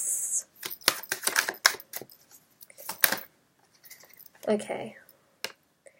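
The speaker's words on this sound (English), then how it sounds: "A lot of cards just flipped over, but way, way, way too many cards flipped over." Tarot cards riffled and shuffled in quick papery bursts, several sharp flicks and slaps as cards flip over and fly out, close up, with a brief spoken word partway through.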